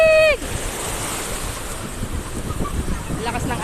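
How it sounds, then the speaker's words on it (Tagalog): Strong sea waves off an island shore near Masbate, a continuous rushing wash of surf mixed with heavy wind buffeting the microphone, steady and loud throughout after a brief tonal sound at the start. "Lakas ng alon."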